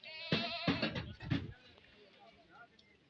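A goat at the Faisalabad goat market bleats three times in quick, loud, wavering calls close by, then falls quiet over a low background murmur.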